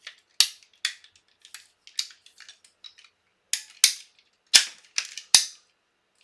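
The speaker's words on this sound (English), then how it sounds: "this is a PVC cutter, but it sure does make short work of cutting through other stuff too" A PVC cutter snapping through material during a reverse bear trap build, a series of sharp crisp crunching snips close up, irregularly spaced with short pauses and small clicks between cuts.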